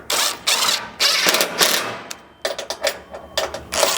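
Ratchet wrench snugging bolts on a skid plate for a 3rd-gen Nissan Frontier: rapid, loud, close ratcheting clicks in sustained runs, then shorter choppy strokes toward the end.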